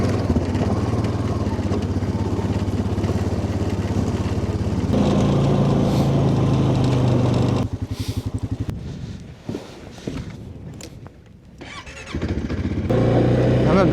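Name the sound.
four-wheeler ATV engine pulling a heavy coal trailer uphill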